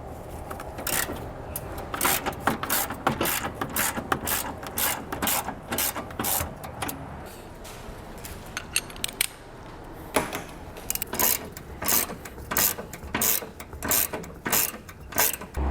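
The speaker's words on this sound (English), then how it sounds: "We're just going to take our 21mm socket here. We're going to break all 3 of those free on both sides." Ratchet with a 21mm socket loosening bumper nuts on a 2022 Ford F-150 during a Blue Ox base plate install, rapid clicking pawl bursts in repeated close strokes, pausing between nuts.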